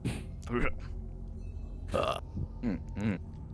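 A single deep, guttural burp rises out of a quiet room, followed by a couple of shorter voiced bursts as people talk around it.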